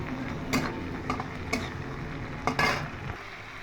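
Shrimp with onion, garlic and green chili fry in a pan, giving a steady low sizzle broken by several sharp utensil scrapes and clatters from stirring. No one speaks.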